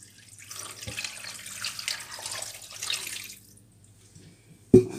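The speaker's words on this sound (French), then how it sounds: "on va mettre de l'eau" Tap water runs into a cooking pot while smoked fish is prepared, a soft steady splashing stream for about three seconds that then stops, followed by a sharp clunk near the end.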